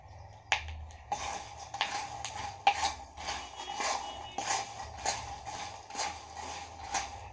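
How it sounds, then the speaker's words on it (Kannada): Masala peanuts are stirred in a pan with the gas turned off, giving soft, irregular metallic scrapes and light clicks of a spoon against the pan, close and fairly quiet. "ಗ್ಯಾಸ್ ಆಫ್ ಆದಮೇಲೂ ಒಂದು 2 ನಿಮಿಷ ನಾವು ಇದನ್ನು ಕೈಯಾಡಿಸಬೇಕು"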